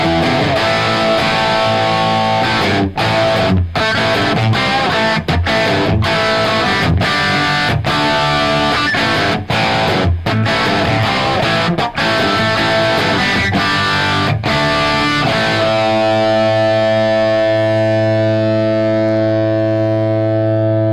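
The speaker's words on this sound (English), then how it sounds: "Sounds different than my amp. It sounds great though. It's a Marshall sound." Electric guitar through a Marshall amp, played with heavy distortion in dense chords broken by short rhythmic stops, ending on a long sustained ringing chord that slowly fades.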